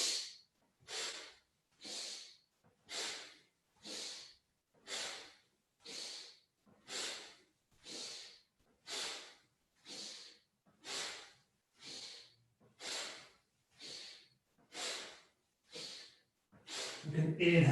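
Deep yoga breaths, about sixteen slow even cycles of airy inhaling and exhaling close to the mic, each a soft breathy swell with short pauses between, ending in a slightly louder rush.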